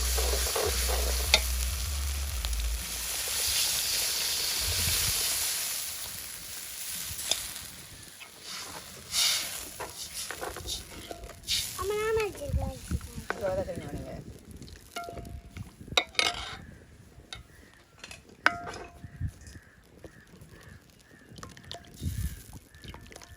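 A pot of fish curry bubbles and sizzles steadily at close range, with occasional stirring clinks and scrapes and a faint voice now and then.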